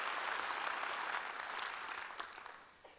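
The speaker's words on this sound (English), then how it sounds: "Can we just give them a round of applause?" An audience at a conference applauds, a dense steady clapping from many hands that gradually thins and fades out toward the end.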